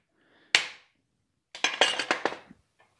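Hammer blows strike a set hammer held against tabs of a hand-forged camp skillet clamped in a vise, one sharp metallic hit followed by a quick cluster of about five ringing strikes, close and clear.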